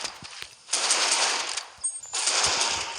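Video game gunfire: two sustained bursts of rapid automatic shots, dense and close, separated by a short lull with scattered softer sounds.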